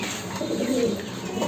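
Pigeons in a rooftop loft give a soft, low cooing call that rises and swells through the middle of the moment, with steady background hiss and no talking.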